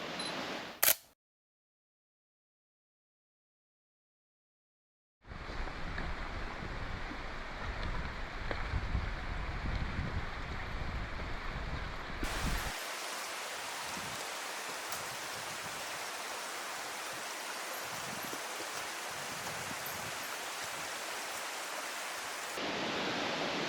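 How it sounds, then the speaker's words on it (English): A breeze blows outdoors on a mountainside on Yakushima Island ahead of Typhoon Shanshan, a steady rushing hiss of wind broken by abrupt cuts and a few seconds of total silence. "There's a lovely breeze blowing now."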